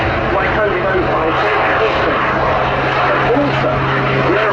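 A continuous, fairly loud engine drone fills the air at the Duxford summer air show from an aerobatic display aeroplane powered by two small Lynx jet turbines of about 300 pounds thrust each, with a voice likely running underneath.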